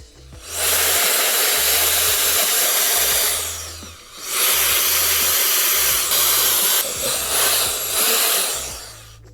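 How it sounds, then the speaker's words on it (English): Canned air duster blowing dust out of a 2019 16-inch MacBook Pro A2141, two long loud hissing blasts separated by a short break, close up with no voices. "grab our air duster"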